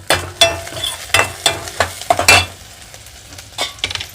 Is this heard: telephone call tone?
no